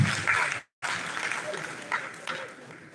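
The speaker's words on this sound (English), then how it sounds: "please clap for me." Audience applause in a lecture hall fills most of the span: loud, dense clapping from many hands, broken by a brief silent gap, then continuing at a steadier, slightly softer level to the end.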